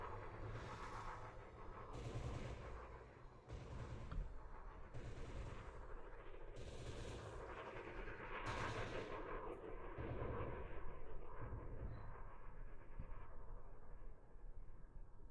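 NPC ships in a space game trade fire as one shoots at a fleeing Asp Scout with its landing gear down, a run of faint, repeated booming gunfire bursts in a steady rhythm over a dense rumbling bed.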